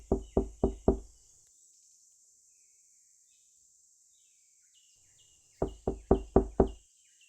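Two bursts of four or five sharp, evenly spaced knocks on a front door, separated by several seconds of quiet with crickets chirping faintly at night.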